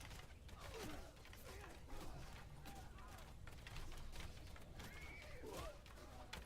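Horse neighing and hoofbeats from the medieval battle game Bannerlord, with whinnies rising over a dense, steady wash of battle noise and continuous galloping through a forest.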